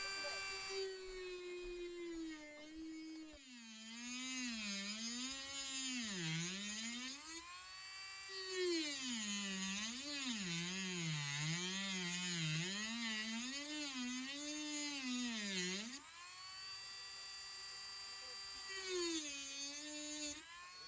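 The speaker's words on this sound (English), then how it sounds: "you just put one of the bits or the drills that you utilize" A power drill spins off the rear wiper arm nut on a 2008-2015 Dodge Grand Caravan, a steady close whir whose speed rises and falls across long runs, broken by a couple of brief pauses.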